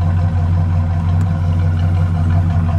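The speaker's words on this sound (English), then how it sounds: "Let me listen to it idle." A 1967 Dodge Monaco 500 engine with an enlarged exhaust idles steadily at a low, rumbling pitch, close by and continuous with a slight burbling exhaust note.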